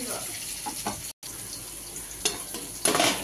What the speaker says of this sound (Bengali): আমি আলগা করে একবার নেড়ে দিচ্ছি বন্ধুরা।